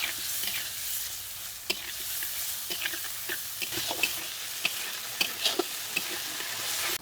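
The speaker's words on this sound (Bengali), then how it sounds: "এখন মশলাটাকে কষিয়ে নেবো" Tomato and ground spice masala with salt and turmeric sizzles steadily in a pan while being stir-fried, a bright continuous hiss broken by scattered scraping stirs and light clicks, close and without talk.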